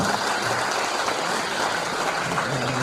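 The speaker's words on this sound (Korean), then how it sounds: "여러분 정말 큰 박수 보내주시기 바라겠습니다" Applause from an audience at a Korean political talk event, a steady wash of clapping filling the whole moment at moderate volume with no speech over it.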